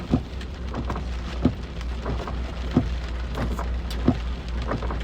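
Steady rain hissing on a surface in a car driving video game, a continuous dense wash with a few soft low thuds rising above it at intervals, no voices.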